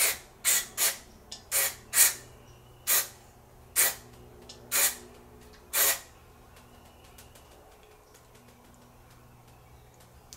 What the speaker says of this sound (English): And you just want to spray.